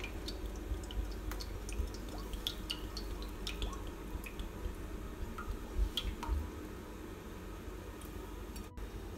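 Tempeh frying in oil sizzles and crackles steadily, with scattered small pops and spits over a low continuous hiss, close up and fairly quiet.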